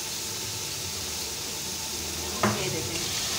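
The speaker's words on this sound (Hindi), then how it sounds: "इनको अच्छी तरह से भून लेंगे। ये देखिए हमने अपने चने अच्छी तरह से भून लिया है और मसालों को भी अच्छी तरह से भून लिया है।" Chickpeas and spices fry in a pot for chana pulao, a steady close sizzle with a brief scrape of stirring near the end.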